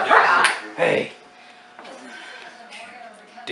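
A dog barks twice, loud and close, at a family gathering, then the sound drops to quieter background noise and faint voices.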